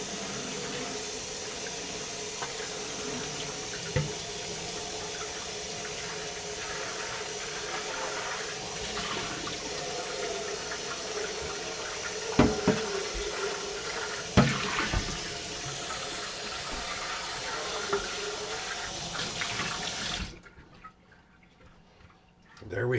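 Running tap water pours steadily over parts of a vintage Hankscraft humidifier as they are rinsed, a continuous close splashing wash with a few sharp knocks and clunks, then the flow stops abruptly near the end.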